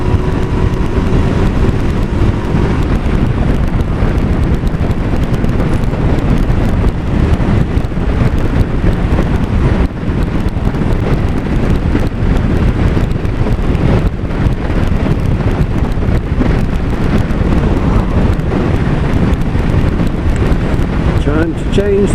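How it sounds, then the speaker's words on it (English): Rain pelting down during a ride on a Yamaha YBR125 Custom motorcycle, a dense, constant roar of spray and wind noise that stays loud and unbroken throughout. "Here's the rain"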